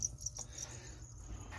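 Feeder crickets chirp in a crested gecko enclosure, giving faint, thin, high-pitched trills in a few short bursts against a quiet room background.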